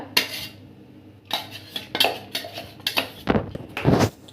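A utensil scrapes and clinks against a pan in irregular strokes while stirring a blended motichoor laddu mixture, close and fairly loud, with short quiet gaps between bursts of stirring.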